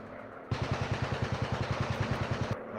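A warplane engine throttles up in the VR game War Planes, giving a sudden loud, rapid rhythmic chugging pulse that holds steady for a couple of seconds before cutting off.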